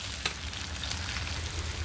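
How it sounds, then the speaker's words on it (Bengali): Onion and chopped tomato fry in a pan with a steady close sizzle, broken by a few light stirring scrapes, and no one talking. "এবার আমি এর মধ্যে টমেটো কুচানোটা দিয়ে দেবো, দিয়ে আবার ভালো করে একটুখানি নেড়ে চেড়ে নেব"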